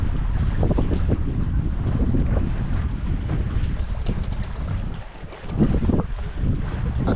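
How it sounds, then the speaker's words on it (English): Steady wind rush and water wash from a sailboat under headsail, heading into the wind on the way back to Almara; constant broadband noise with microphone buffeting, loud and unbroken throughout. "We've got the head sail up and we're sailing into the wind."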